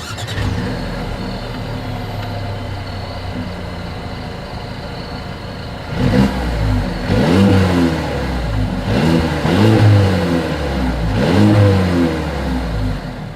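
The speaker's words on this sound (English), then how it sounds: "As always, here is that exhaust clip." A 2023 Mercedes CLA revs up in repeated bursts after a steady low idle, each rev a deep, loud exhaust roar that rises and falls.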